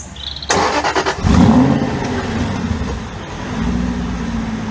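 An Aston Martin V8 Vantage starts in its quiet default exhaust mode: a short starter whir, then the engine catches with a loud burst. It settles into a steady, subdued idle.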